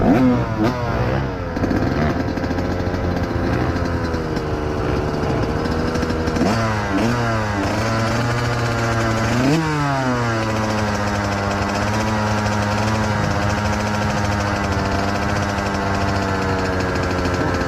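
A motorcycle engine labours nearby on a rough off-road track at a community police trail ride, loud and continuous, its pitch rising and falling as the throttle opens and eases over about eighteen seconds.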